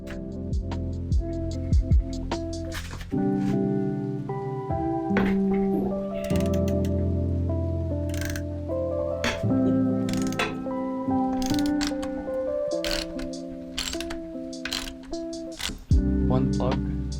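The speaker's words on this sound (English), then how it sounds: "it's time to take those plugs off" A spark plug is worked loose on a Honda B16A2 engine, giving scattered ratchet clicks and metallic ticks over a steady bed of background music.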